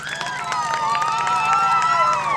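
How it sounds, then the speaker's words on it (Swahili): An outdoor crowd at an Uhuru Torch ceremony claps steadily while high, wavering ululation rings out above the applause, loud and continuous throughout. "Makofi mengi sana na vigeregere"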